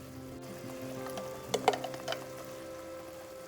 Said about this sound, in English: Stirring the onions,